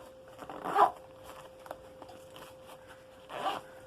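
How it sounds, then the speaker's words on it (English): A camera bag converted into a hiking fanny pack is zipped shut, with a clear zipper pull near the start and a second shorter zip toward the end, close and fairly quiet with no talking. "I'm just going to zip that all back up."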